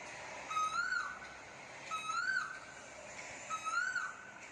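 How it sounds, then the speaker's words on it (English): A cuckoo calls three times, each a clear repeated two-note whistle spaced about every one and a half seconds, moderately near and alone over a faint hiss. "Cuckoo sings very sweetly"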